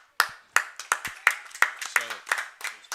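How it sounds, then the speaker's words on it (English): Scattered claps ring out at a varsity baseball game as a pitcher leaves the mound, about eight sharp hand claps spaced out over a few seconds, with a brief voice heard too. "round of applause"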